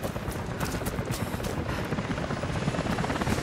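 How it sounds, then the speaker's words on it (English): Helicopters approach in the video game Rise of the Tomb Raider, producing a loud, continuous rotor thumping with rapid blade chop that fills the whole stretch. "helicopters are headed your way"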